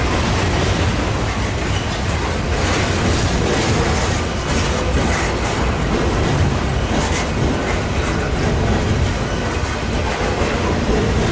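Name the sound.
freight train (port stacker) passing at Commerce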